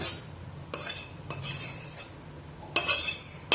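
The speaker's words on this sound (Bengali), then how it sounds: "ভালো করে কড়াইটা একদম কেচে পুছে নেব, যাতে একটুও ঝোল নষ্ট না হয়।" A metal spoon scrapes repeatedly against a wok, cleaning out prawn malai curry gravy, in short bursts with brief pauses between strokes, close and fairly loud.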